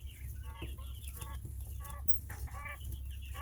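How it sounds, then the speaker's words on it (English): Quail chicks give soft, repeated chirping calls in quick bursts, close by and faint over a low steady hum. "I don't know if you can hear them because the chicks are making noises"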